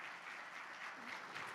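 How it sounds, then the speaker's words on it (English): A round of applause from an audience for a panel at a festival event, steady continuous clapping from many hands, soft and somewhat distant, with no voices over it. "can we get a round of applause for the whole panel?"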